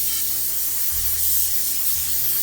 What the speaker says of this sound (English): This is the most quietest compressor in the world.